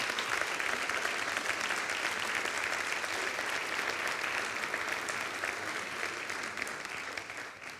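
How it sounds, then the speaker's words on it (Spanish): A hall audience applauds the winners at the Irun city Kutxa literary prize ceremony, a dense, steady wash of clapping that carries on for several seconds and thins slightly toward the end, with no voices over it. "un aplauso para ellos"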